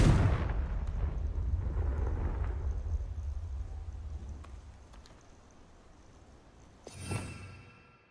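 A Confringo blasting spell explodes in Hogwarts Legacy with a deep, booming blast that rumbles and fades over several seconds, followed by a sharper crackling burst near the end.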